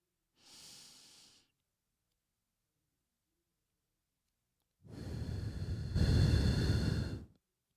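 Slow box breathing: one soft, airy breath sounds briefly, then silence for a long held pause. A longer, louder breath follows, close and clear with no other sound.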